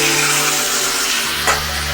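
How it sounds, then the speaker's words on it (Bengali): Ginger garlic paste fries in a pan for a chicken stew. It gives a brief, loud hiss over a low steady hum, with a short scrape of stirring near the end. "আমি আদা রসুনের পেস্ট এই 1 চামচ দিয়ে দিলাম।"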